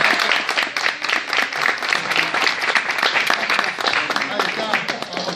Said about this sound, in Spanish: Un aplauso familia. Para la señora.